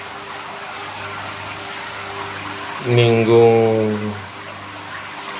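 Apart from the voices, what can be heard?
water being transferred from tank into Malawi aquarium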